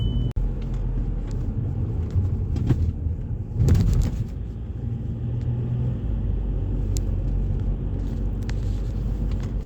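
A Volkswagen Passat driving on the road after an oil change, producing a continuous low engine and tire rumble inside the cabin, with a brief louder surge partway through.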